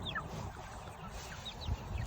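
Chickens in an open pasture cell grazing system cluck softly through a steady outdoor hum, with a few faint chirps and low thumps near the end and no talk.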